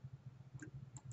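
Soft, rapid computer mouse clicks in a quiet room, a steady run of light taps with a couple of brighter clicks standing out, no voices.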